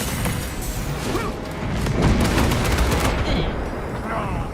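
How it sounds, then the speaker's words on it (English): Frag grenade blast amid gunfire in a military shooter game, loud booming explosion swelling midway, surrounded by scattered shots and rumbling debris, with brief voice callouts over the action. "Frag grenade!"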